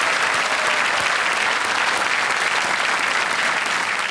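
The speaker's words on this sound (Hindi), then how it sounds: "तालियों के साथ एक बार फिर इनका स्वागत।" A studio audience on a television quiz show applauding to welcome a contestant, dense sustained clapping that stays loud and even for the whole stretch without a break.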